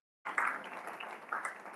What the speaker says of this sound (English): Can you clap for that name?